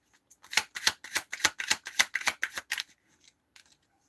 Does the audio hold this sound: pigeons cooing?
no